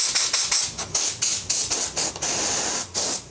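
Air blow gun on an NMS air hose reel set firing compressed air in short repeated bursts, about ten loud hissing blasts with brief gaps, then one longer steady spray, close and alone.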